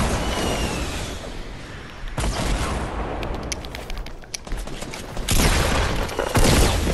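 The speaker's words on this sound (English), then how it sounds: "I got two shotgun shots on him" Shotgun blasts in a multiplayer shooter game, a loud, dense run of booming shots and gunfire layered over constant battle noise, with a couple of sharper bursts standing out and no talk.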